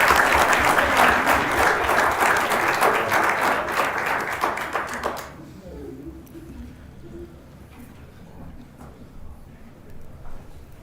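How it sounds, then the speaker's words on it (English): Loud applause from a city council meeting audience runs for about five seconds and then cuts off, leaving quieter room noise with some murmuring and a few scattered sounds. "Let's give them a round of applause."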